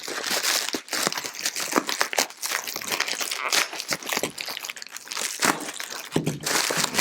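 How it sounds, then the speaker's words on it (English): Packing tape is peeled and torn off a bubble-wrapped box holding a Nikon Z 50mm f/1.4 lens, making a continuous close crinkling and crackling rustle with sharp rips throughout. "So let's get this tape off."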